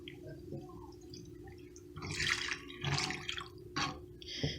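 A cup of water pours into browned taco meat with seasoning in a pan, giving bursts of splashing and sizzling hiss over a low steady hum, close and moderately loud.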